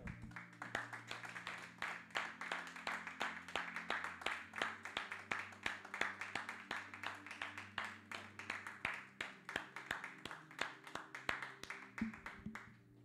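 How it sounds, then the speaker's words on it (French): Church congregation applauding during a Sunday service, a sustained dense crackle of many hands clapping in a steady rhythm over a low musical drone, moderately distant and even in level. "Applaudissons pour Jésus-Christ"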